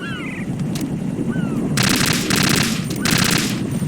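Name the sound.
AK rifle gunfire in video game Metal Gear Solid 2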